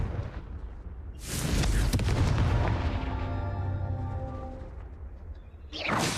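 A Confringo spell fires in a video game, setting off a heavy booming explosion with a rumbling roar that swells and lingers for several seconds, followed by a sharper burst at the end.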